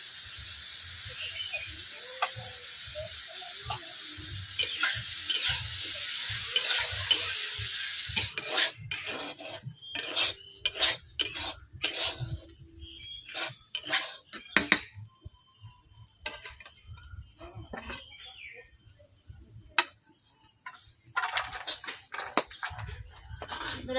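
Salted potatoes with turmeric frying in a wok, a steady hiss in the first seconds giving way to scattered scrapes, clatters and stirring knocks of a utensil against the pan, moderately loud and close, with no talking.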